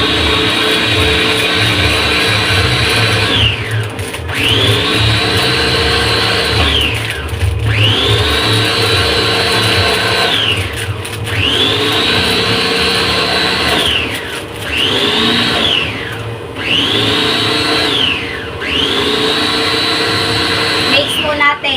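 A food processor whirs loudly in repeated long bursts, mixing malunggay puto cheese batter, each run stopping briefly before the motor spins up again.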